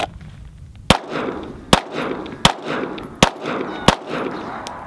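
Pistol shots in a practical accuracy drill: five sharp, loud reports spaced roughly a second apart, each followed by a brief echoing tail outdoors, with no talk over them.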